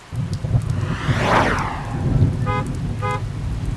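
Steady rain pours down with a low rumble and a passing whoosh of a vehicle, followed by two short harmonic chirps like a horn or alarm.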